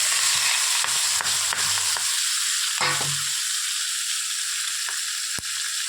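Bele fish sizzles in hot oil, a loud, dense and steady frying hiss with a few sharp pops and clicks scattered through it.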